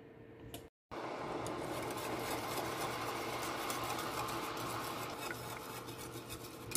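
Wire whisk stirring milk in a pot being brought to a boil for a traditional pouding chômeur, a steady close scraping and swishing that runs without pause apart from one brief break near the start.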